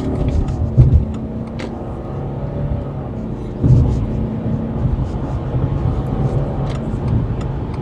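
A 2025 Subaru Outback with a CVT accelerating, its engine a steady, moderate drone heard from inside the cabin, with a couple of brief louder bumps and faint road rumble underneath.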